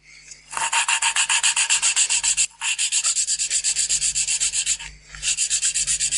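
Steady rhythmic rasping of a valve being lapped against its seat with a lapping tool on a Renault 4L engine, close and loud, in quick back-and-forth strokes with two short pauses.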